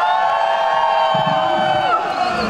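A large crowd of fans cheers and shouts at the Sochi Kuban marathon, a steady, loud wash of voices.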